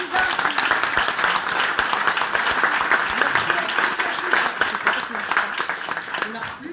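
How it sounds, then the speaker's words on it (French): Audience at a French conference on dreams applauding the president, sustained dense clapping that fills the room with faint voices mixed in. "Allez, un grand applaudissement pour la présidente."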